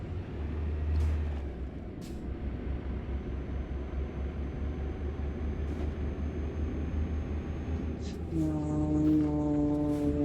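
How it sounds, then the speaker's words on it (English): A train horn sounds in American Truck Simulator on a Texas-to-Kansas truck route, with a long tonal blast rising clearly near the end over the steady drone of the truck engine. "I hear a train. I hear a railroad."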